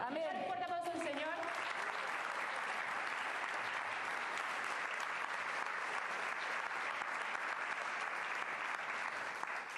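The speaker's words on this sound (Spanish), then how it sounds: "Dale un fuerte aplauso al Señor" A congregation at a church service breaks into steady, loud applause that holds unbroken for about ten seconds, with a brief voice rising at the very start before the clapping takes over.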